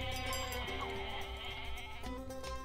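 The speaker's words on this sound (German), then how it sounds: "So, das sind eine Menge Ziegen." Goats bleating in the Age of Mythology video game, several overlapping bleats over a steady bed of game music and ambience, fairly loud and continuous with no talk.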